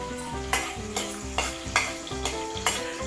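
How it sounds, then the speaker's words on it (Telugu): Green chillies fry in heated oil for a Sunday prawn curry, a steady loud sizzle with a spoon stirring and scraping the pan in regular strokes about every half second. "నూనె కొంచెం హీట్ అయినాకైతే పచ్చిమిర్చి చేసినాం ఫస్ట్"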